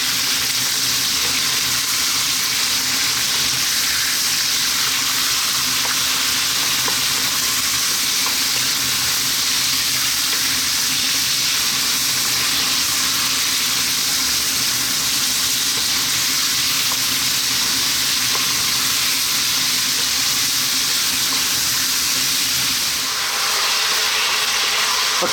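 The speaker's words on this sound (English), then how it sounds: "Medium heat. We're going to cook this for about 5 minutes." Lamb meat with a few small bones and fat frying over medium heat, a loud continuous sizzle and crackle that holds evenly throughout.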